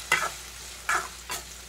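Chopped tomatoes sauté in a pan while a spoon stirs them, giving three short scraping strokes over a soft, steady sizzle, close and fairly quiet.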